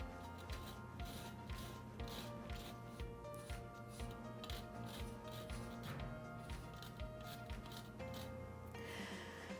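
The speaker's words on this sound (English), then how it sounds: "I'm going to zest this right into this bowl." A key lime is zested into a bowl, giving close, soft, rhythmic rasping strokes that repeat steadily at low volume over a faint background hum.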